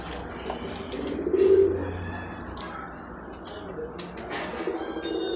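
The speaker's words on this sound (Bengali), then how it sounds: "এই যে দেখেন কবুতরগুলো পালন হচ্ছে, এই যে খাঁচার মধ্যে কবুতর" Soft, low coos from caged pigeons murmur close by over a faint background hum, with a slightly louder cooing phrase early on.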